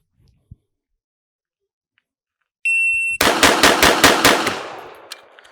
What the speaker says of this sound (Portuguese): Então, 6 disparos aqui